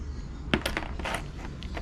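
Rusty coins found on a beach are handled, giving several bright metallic clinks and jingles close by over a low background rumble.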